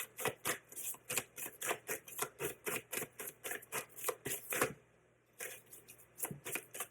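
Tarot cards are shuffled in rapid, even riffles, close and crisp, pausing briefly before the rhythmic flicking resumes.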